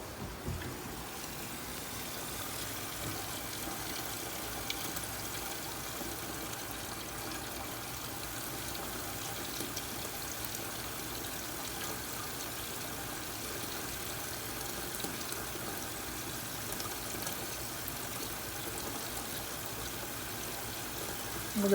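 Water with a little distilled vinegar pours steadily into a Vevor 5 gallon stainless steel still, a continuous soft hissing splash running unbroken and fairly quiet throughout.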